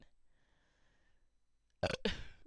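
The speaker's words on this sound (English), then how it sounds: "I knew I needed to burp" A loud, wet burp arrives late in the clip as two close bursts after near silence.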